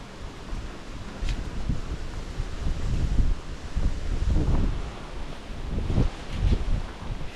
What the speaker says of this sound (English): We're back into the wind as well.